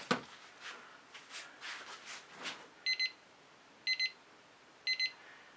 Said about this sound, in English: when that timer goes off, I'm going to only have a minute left.